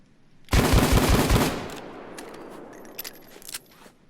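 Taurus Judge shotgun revolver firing in the Payday 2 video game: a loud, rapid burst of shots lasting about a second, then a fading tail and a few faint mechanical clicks.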